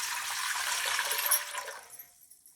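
A full jug of water pours steadily into a steel pot with a bright splashing rush that tapers off toward the end.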